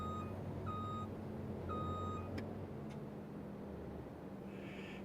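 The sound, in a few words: truck reversing in Farming Simulator 25 video game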